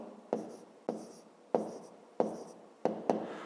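A number being written by hand on paper in a math exercise, heard as six distinct pen strokes in an even rhythm, close and quiet, with no talking.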